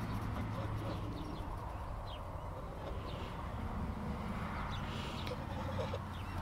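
Chickens cluck and murmur softly in the background amid steady outdoor ambience, with a few brief higher calls scattered through.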